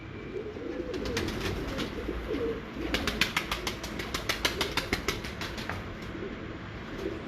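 Breeder pigeons coo on a rooftop loft in Kasur city, a soft continuous murmur of cooing joined midway by a run of quick, regular clapping pulses.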